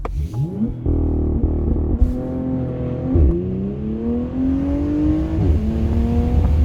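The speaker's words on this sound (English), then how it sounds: "when you put the valve open or you put it in sport or sport plus mode, it sounds like a Porsche" A Porsche Panamera 4 E-Hybrid with a twin-turbo six-cylinder and sport exhaust revs loudly and close, its engine note climbing and dropping through several throttle blips with a deep, resonant growl and no talking.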